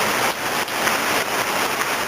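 Rain falls steadily on a construction site with an open foundation trench, a dense, loud, continuous hiss with a few louder spatters mixed in.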